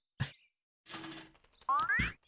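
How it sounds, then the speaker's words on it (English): Mailbox sound effect from the video game Paper Mario 64: a short thump, a rattling buzz, then a rising boing-like slide ending in a hollow knock, brief and alone. "Oh, that was the sound of the mailbox."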